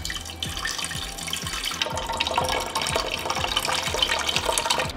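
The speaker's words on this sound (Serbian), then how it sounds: "sada ću tečnost presuti u šerpu i nosim na šporet da proključam" Liquid pours from a glass jar into a cooking pot in a home kitchen, a steady close splashing stream with faint clinks, and no talk over it.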